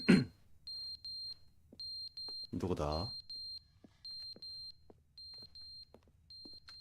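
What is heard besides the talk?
alarm ringing in the video game The Stanley Parable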